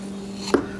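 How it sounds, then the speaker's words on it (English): A butcher's knife cuts once, sharply, into the fat cap of a pork shoulder. The single short close thud stands over a faint steady background hum, with no talking. "I'm going to score it, okay? So, the reason I'm scoring it is to help that fat render better"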